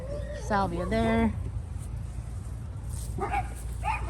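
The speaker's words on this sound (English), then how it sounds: "Amazon is here, so my dogs are going nuts." Pet dogs barking and yipping excitedly at a delivery arriving outside a home garden, a cluster of fairly close, rising barks early on, then a few quieter yelps later, with a low steady hum underneath.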